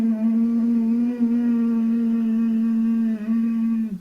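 A steady, low, resonant hum held by one voice in a pranayama breathing practice, buzzing evenly for about four seconds with only a slight dip near the end.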